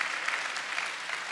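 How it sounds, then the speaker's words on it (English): Studio audience applauding, a brief, even patter of many hands clapping at moderate volume with no voices over it. "You better clap for him."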